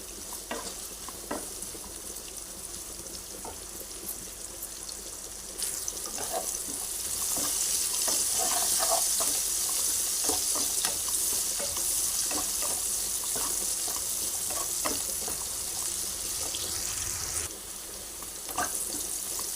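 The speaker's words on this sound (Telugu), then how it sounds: "ఉప్పు కొంచెం వేస్తే తొందరగా ఉల్లిపాయ వేగుతుందని" Onions with salt frying in a pan, a steady close sizzle with frequent spoon scrapes and clicks as they are stirred, growing louder partway through, no talk.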